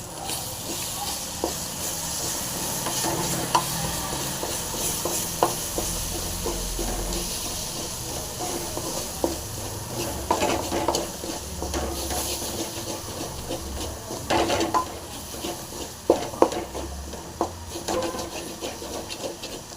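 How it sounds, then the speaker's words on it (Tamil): Egg Maggi noodles with five eggs frying in a pan while being stirred, giving a steady hiss with scattered scraping and clicking stir sounds and a few louder knocks near the end. "இப்போ அப்படியே ஃப்ரை பண்ணிக்கலாம் நல்லா கலக்கிங்க"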